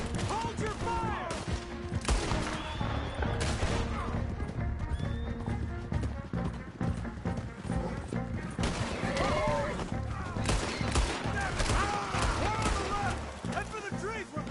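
Gunfire in a Red Dead Redemption 2 shootout, shots crackling throughout under constant shouting voices, with horse hooves and whinnies mixed into the dense din.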